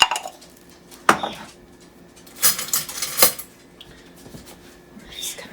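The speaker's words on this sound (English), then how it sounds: "just kind of gonna whisk this together" A whisk clinks and scrapes in a bowl, mixing a dry coating of flour with paprika and ground black pepper, in a few quick bursts at moderate volume.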